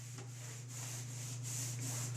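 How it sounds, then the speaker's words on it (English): Grout sponge rubbing across shower tile to wipe away excess grout, a soft, steady scrubbing swish that keeps going without pause, close up, with no talk. "just sponge like that, clean off the excess,"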